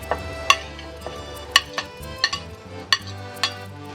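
Garlic and onions frying in a pan while cooking a pizza lasagna, with scattered sharp clinks and scrapes of a utensil against the pan over a low sizzle, several distinct knocks spaced through the moment.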